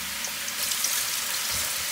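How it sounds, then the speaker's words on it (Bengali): Sliced onion frying in hot oil until brown, the base for a homestyle Bengali chicken curry with potatoes, giving a steady close hiss and sizzle throughout with a few soft clinks, no talk. "আমি এখন যে পেঁয়াজটা, এটা আমি এখন এটা বাদামি করে ভেজে নিব আর কি"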